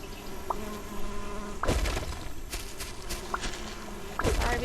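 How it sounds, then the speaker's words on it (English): Bees drone softly around a hive in the video game Solarpunk, a faint buzzing hum broken by a few sharp thuds and footstep-like knocks. "Sorry, bees, I gotta take away your house"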